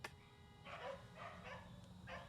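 A dog barks several times at a distance, faint short bursts roughly evenly spaced over a low background hum.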